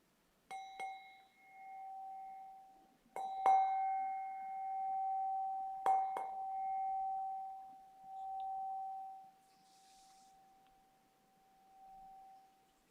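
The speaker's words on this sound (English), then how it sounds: "before I ring the bell to end the meditation" A meditation bell is struck three times at a slow, even pace, each bright metallic strike ringing out with a long, pure, wavering sustain that fades gradually in a quiet room, the last tone dying away into near silence.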